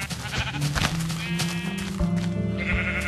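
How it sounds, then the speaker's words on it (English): Sheep in the Minecraft video game bleat repeatedly, close and fairly loud, over busy in-game sounds. "There should be one more sheep around down here."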